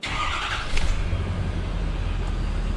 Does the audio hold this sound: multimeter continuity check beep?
no